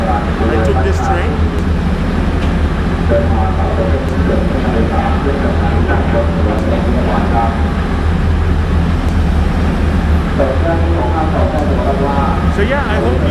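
An SRT train rumbles at Rangsit Station in Bangkok, a loud, constant low drone filling the whole stretch while people talk over it.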